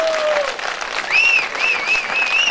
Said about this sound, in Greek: ας τους ενθαρρύνουμε με ένα ζεστό χειροκρότημα.